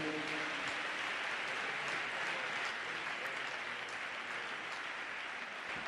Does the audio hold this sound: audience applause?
yes